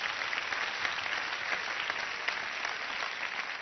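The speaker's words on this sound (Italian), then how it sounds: "Facciamo un altro applauso anche a lui" A television studio audience at a comedy show gives a continuous, uniform burst of applause, a dense hiss of many hands clapping at steady volume throughout.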